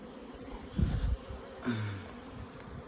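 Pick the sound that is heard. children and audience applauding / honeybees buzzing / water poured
honeybees buzzing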